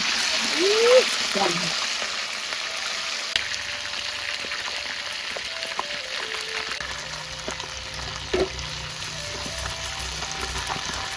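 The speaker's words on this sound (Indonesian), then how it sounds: "Ayamnya digoreng, Lur." Pieces of chicken fry in hot oil for Indonesian ayam goreng, giving a continuous soft sizzle and hiss with occasional clinks, while a voice speaks faintly in the background.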